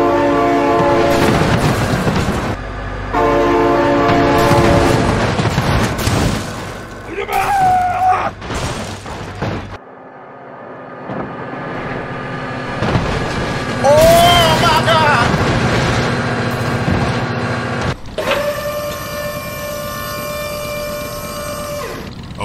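A train passes with a loud, sustained horn in several long blasts, over heavy rumbling and rhythmic clatter of wheels on the rails, the horn tones shifting as it goes by.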